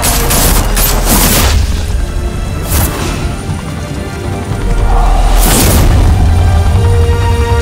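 Loud booming gunfire and explosive blasts in a Batman: The Telltale Series scene, heavy bursts rolling over a rumbling low-end background, with a second big impact late in the sequence.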